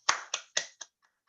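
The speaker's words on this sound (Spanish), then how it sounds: "Yo les pido un aplauso para ella" Four distinct hand claps ring out close and crisp during an online course session, spaced evenly and dying away quickly with a couple of faint taps after.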